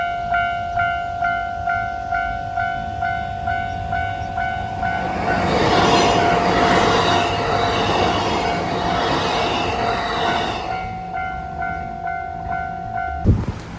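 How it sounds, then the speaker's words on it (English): At a railroad crossing in Japan, the warning bell clangs in a steady, even rhythm, then a train rushes loudly past and drowns it out, and the bell rings on again after the train has gone, ending with a sharp thud. "we're coming up to a railroad crossing, and the railroad's actually coming"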